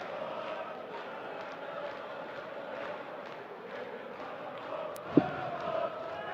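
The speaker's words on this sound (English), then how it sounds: "Crowd are getting on his side as well." A darts crowd at the 2018 European Darts Open murmurs and roars steadily in support of a player, a continuous hall-wide din of voices with a sharp knock near the end.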